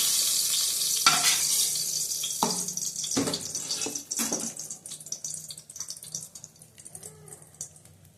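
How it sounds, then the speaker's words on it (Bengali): Spices tempered in hot oil left after frying pabda fish, with black cumin added, crackle and sizzle close up in bursts with sharp spikes near the start, settling into a steady hiss. "এই তেলের মধ্যেই ফোড়নটা দিয়ে দেবো।"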